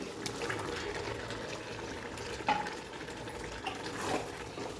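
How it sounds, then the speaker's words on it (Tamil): Chicken pieces go into a simmering yogurt mixture for chicken biryani, giving quiet wet sloshing and bubbling with a few soft clinks, faint and close. "இப்படி சிக்கன் ஆட் பண்ணிக்கிறேங்க"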